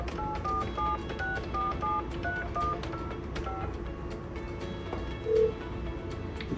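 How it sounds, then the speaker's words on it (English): A Talkaphone ETP-500 emergency phone being called: a quick run of keypad dialing tones, several short evenly spaced beeps in a row, fairly clear over a low steady background hum. "I'm going to dial my emergency phone."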